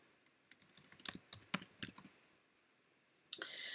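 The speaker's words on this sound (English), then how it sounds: "So if I type in landscape here," Quick run of close, light computer keyboard key taps, about a dozen crisp clicks over two seconds, followed by a short pause and a sustained noise at the end.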